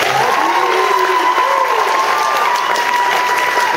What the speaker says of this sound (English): A round of applause again for you.